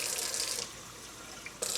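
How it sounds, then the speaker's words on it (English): Water runs from a kitchen tap into a jar in a short, steady splash that drops briefly quieter before surging again near the end, with no voices. "I put a little bit of water in the jar because you're not gonna waste this"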